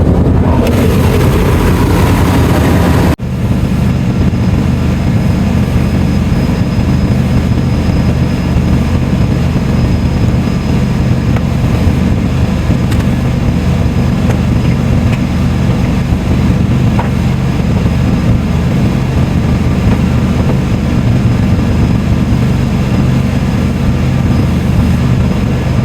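A truck engine drones steadily and loudly close by, a continuous low rumble that carries on unbroken for the whole stretch after a brief initial change in tone.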